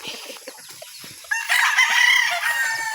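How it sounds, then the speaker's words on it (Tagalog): Chickens clucking softly at first, then a loud rooster crow rising partway through and carrying to the end, close by and heard alone. "Mga chicken."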